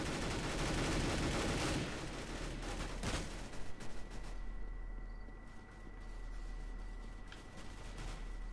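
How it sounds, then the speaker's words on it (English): Gunfire in the video game CS:GO, a dense burst of shots early on with a sharp crack around the middle, then quieter sporadic firing and background noise. "Where are we getting shot from?"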